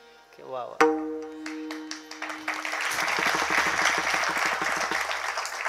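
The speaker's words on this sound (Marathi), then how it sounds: "एकच वाक्य बोललो, टाळ्या झाला." After a few sharp struck tones, an audience at a comic kirtan bursts into applause that builds and holds, a broad crowd clapping under a faint voice.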